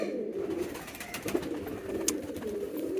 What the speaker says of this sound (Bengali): এই যে রেসার হোমা কবুতর আমাদের সাকসেসফুলি দুইটা ডিম দিয়েছে